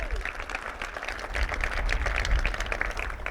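Applause from the crowd at the 2026 Puyallup Police Facility dedication and grand opening ceremony: steady, fairly distant clapping that swells slightly midway, with a faint murmur of voices underneath.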